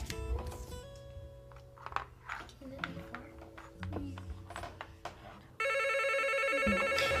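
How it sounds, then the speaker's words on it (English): A telephone rings near the end, a loud electronic bell repeating steadily after a stretch of scattered indoor noises and movement. "Don't answer the phone."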